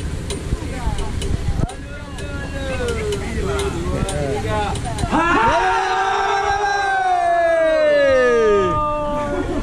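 A liveaboard dive boat crew cheers and whoops, with rising and falling shouts growing louder in the second half over a background rumble.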